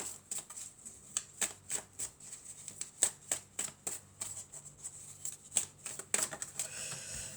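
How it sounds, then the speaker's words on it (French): Tarot cards being shuffled by hand, a quick run of crisp, papery riffles and taps in an uneven rhythm, close and fairly quiet, with no one talking. "on va prendre quelques cartes de la triade"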